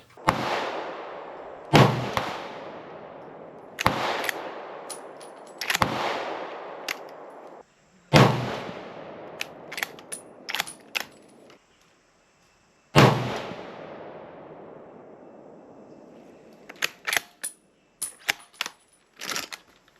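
A Ruger American Gen II Predator rifle fires at a shooting range: loud, sharp individual shots spaced several seconds apart, each with a long ringing decay, plus a few quicker clicks and clatters between them, with no talking.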